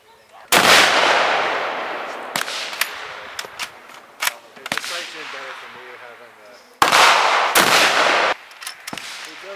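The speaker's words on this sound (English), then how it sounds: "This is going to be an 8mm Mauser, number 8. 8mm Mauser, 2 shots, block number 8." Two sharp, loud 8mm Mauser rifle shots fired into a block, each a sudden crack with a decaying echo, separated by several seconds, with faint clicks and handling noises between them.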